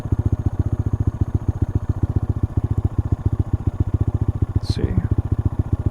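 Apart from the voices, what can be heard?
Honda Monkey motorcycle engine started and revving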